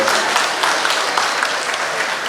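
An audience at a UMKM small-business award ceremony in Malang claps in a brief, dense burst that holds steady throughout.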